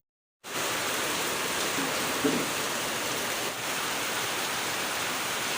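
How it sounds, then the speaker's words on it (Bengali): Heavy rain pours down outside as a steady, dense hiss that holds evenly for several seconds after a sudden start, with no voices over it. "বাইরে প্রচণ্ড বৃষ্টি হচ্ছে দাঁড়া তোমাদের একবার আওয়াজটা শোনাই"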